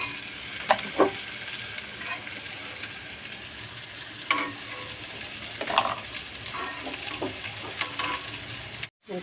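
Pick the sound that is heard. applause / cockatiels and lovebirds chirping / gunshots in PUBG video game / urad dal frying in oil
urad dal frying in oil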